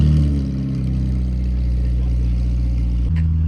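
A McLaren 720 supercar rolls in at a Cars and Coffee meet, its engine a loud, steady low rumble that holds throughout, with a slight shift in pitch near the end.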